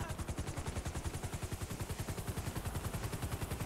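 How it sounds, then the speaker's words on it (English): Rapid automatic gunfire in the video game GTA Online rattles continuously in a steady, fast rhythm, loud and unbroken throughout. "I can hear the gunshots over here."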